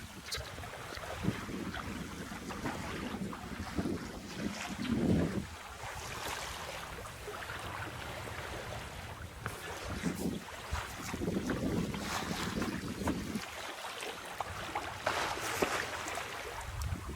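A sailboat under sail on the way to Solomons Island, Maryland, carries steady wind rushing over the microphone and a low swash of water along the hull throughout.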